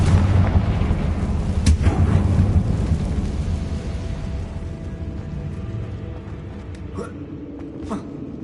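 Confringo explosive spell cast in Hogwarts Legacy: sharp blasts ring out over a rumbling din, with further cracks landing later on.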